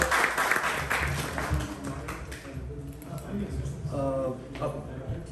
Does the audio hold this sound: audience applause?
yes